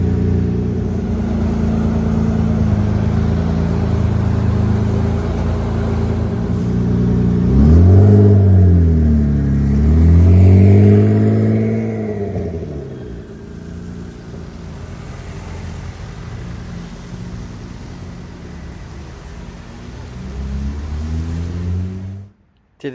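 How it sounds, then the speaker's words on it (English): A DeLorean engine revving on a London road: a steady idle rumble swells into two loud rising-and-falling revs in the middle, then settles back to a lower idle before cutting off. "I'm so excited I finally found that DeLorean on the road."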